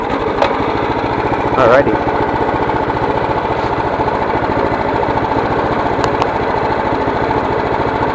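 A stock Predator 212 small engine runs near at about 5200 rpm, a loud, steady buzzing drone with a fast even pulse; someone speaks briefly over it near the start.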